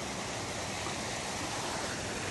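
Water rushing in a stream near a waterfall, a constant broadband roar that stays steady and fairly close, with no voices over it.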